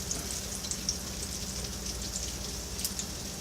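Fry bread dough bubbling in hot oil, a dense, steady crackling sizzle with scattered small pops, close and fairly quiet.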